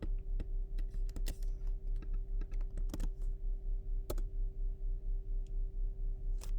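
Password being entered on a computer keyboard, scattered light key clicks in short bursts and single taps over a steady low electrical hum.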